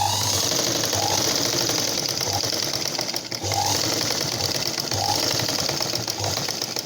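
Sewing machine stitching blouse fabric, running forward and back in reverse to lock the seam: a steady fast mechanical whir with a rapid needle clatter, close and continuous throughout.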